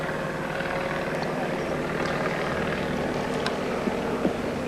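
A plane drones overhead above an outdoor lawn bowls game played in rain, a steady distant engine hum under crowd bustle and rain noise.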